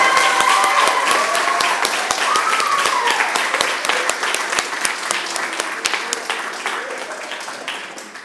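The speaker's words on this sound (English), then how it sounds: "If we could just give the youth one more grand big round of applause." Sustained round of applause from the audience at a Newport News Neighborhood Leadership Institute graduation ceremony honoring the Youth Leadership Club, dense and steady, slowly fading toward the end, with faint voices and cheers underneath.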